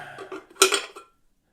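A metal lid on a mid-century aluminium kettle clatters in a few close, bright knocks and scrapes, the loudest pair of clanks coming in quick succession before the handling stops and silence follows.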